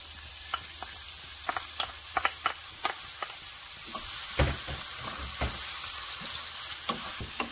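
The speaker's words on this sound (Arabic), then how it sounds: "رح اخلي بس تحمى شوية، اي اخلي بيها البصل" Onion frying in a little oil in a hot pan: a continuous close sizzle with a string of small crackling pops and a few louder knocks of a spoon against the pan.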